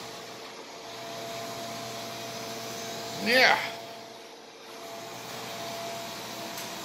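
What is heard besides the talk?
Ecovacs DEEBOT 900 robot vacuum cleaner running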